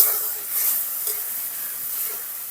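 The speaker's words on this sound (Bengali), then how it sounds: "এখন মশলার সঙ্গে আলু খুব ভালো করে আমি কষিয়ে নেবো" Potatoes with spices and dried chillies fry in oil in a pan, giving a steady, fairly close hissing sizzle with slight stirring swells, heard alone without talking.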